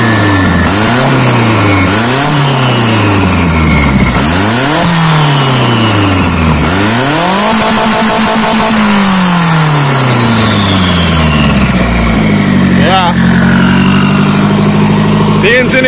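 Lada fitted with a Toyota 1NZ-FE engine and turbocharger on its first turbo start, unloaded, revving repeatedly in loud rising-and-falling sweeps with a whining turbo note, close up, ending in a settling idle.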